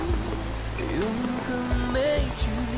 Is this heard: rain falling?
yes